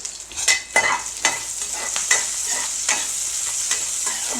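Sliced onions with salt frying in a pan for a drumstick-leaf stir-fry, a bright continuous sizzle broken by repeated scraping stirs of a spatula, close and moderately loud.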